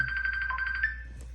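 A telephone rings with a fast warbling electronic trill, loud and close for about a second. It then cuts off, leaving a low steady hum and a faint click.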